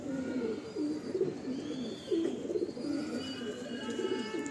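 Pigeons in a home loft coo steadily in low rolling phrases, several overlapping calls repeating close by with no talk over them.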